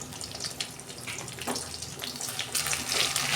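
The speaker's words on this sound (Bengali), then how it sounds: "মাছটা ফাটছে প্রচুর।" Pabda fish frying in hot oil in a pan, a steady faint hiss of sizzling broken by small crackling pops and spatters, with no talking.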